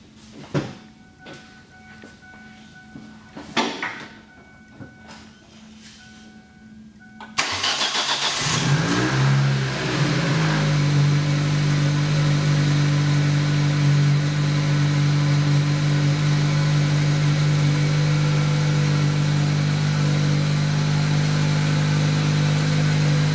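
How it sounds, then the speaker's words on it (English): A car engine cranks and starts after an oil change in a garage, then settles into a steady, loud idle that hums on without pause. Faint clicks and handling sounds come before the start. "we're going to go ahead and start the vehicle now"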